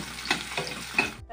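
Onions frying in a pan for sambar, a close, continuous sizzle with brief louder bursts as they are stirred, cutting off abruptly near the end.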